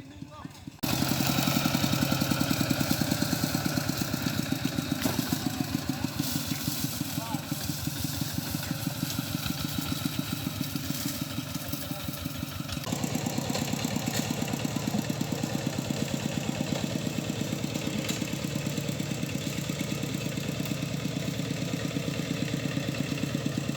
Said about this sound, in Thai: นี่อาวาดกำลังขับรถไถลงไป